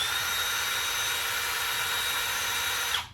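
A Milwaukee Gen 3 M12 Fuel impact driver runs at a loud, steady high-pitched whine close by, cutting off abruptly at the end with a short spin-down.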